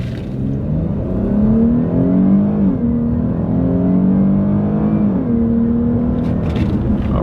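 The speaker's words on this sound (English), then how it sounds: "before we get rid of this car, we got to do one more launch control" A car launching hard with launch control in sport mode, engine note climbing steadily through several gear shifts, loud and sustained from start to finish.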